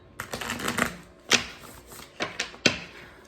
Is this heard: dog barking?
no